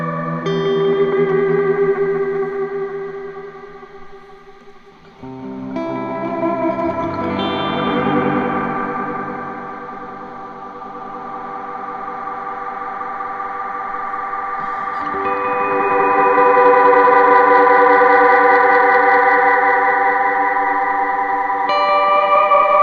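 Electric guitar run through a modulated delay pedal feeding a second delay with reverb, sustained chords smearing into a washy, chorused, echoing swell that builds and lingers, loud and alone without talk.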